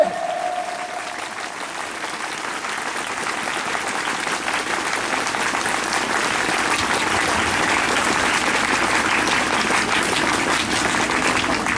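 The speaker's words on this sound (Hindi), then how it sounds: "चलिए एक बार जोरदार तालियां बजाइए यीशु मसीह के लिए।" A crowd at a church testimony gathering breaks into loud applause that swells and holds steady, dense clapping filling the hall after a brief tone at the start.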